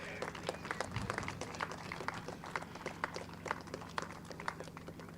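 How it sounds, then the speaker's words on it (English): A crowd claps steadily in dense, uneven bursts at a kart racing prize presentation at Silverstone, honouring a young kart racer. The applause is moderately loud and continuous throughout. "please give a huge round of applause for Lucian Smith"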